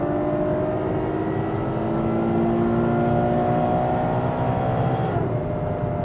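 A 2016 Ferrari GTC4Lusso with its naturally aspirated V12 of nearly 700 hp howls at high revs on the Autobahn, a loud continuous engine drone with steady rising harmonics that dip slightly near the end.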